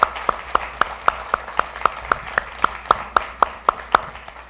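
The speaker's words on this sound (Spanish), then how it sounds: "Demos un aplauso al Señor por doña Beatriz." Steady rhythmic clapping at a church service, sharp and regular, like a small group clapping in unison at a brisk even pace, with no voices over it.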